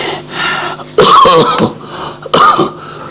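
A woman coughs and clears her throat at close range in a quiet home at night, with two harsh bursts and a softer hacking stretch before them.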